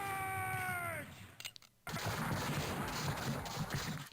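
Infantry and artillery gunfire from the Civil War Generals II strategy game crackles as a dense, steady barrage after a brief synthesized tone fades out, with no voices.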